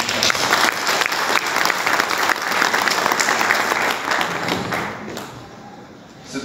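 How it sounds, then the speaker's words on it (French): Sustained audience applause at a jubilee book presentation honouring a priest, dense and steady clapping from a sizable crowd that holds strong for about five seconds before thinning and fading out at the end. "Je vous demanderai d'applaudir Monsieur l'abbé Cassien."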